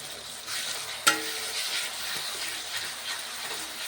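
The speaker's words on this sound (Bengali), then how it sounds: "কাজু আর পোস্তর কাঁচা গন্ধটা যাওয়া পর্যন্ত একটু আমরা এটাকে লাড়িয়ে নেব" Cashew and poppy seed paste frying in a pan hisses with a steady, close sizzle while being stirred, with one sharp metallic clink early on and no voices.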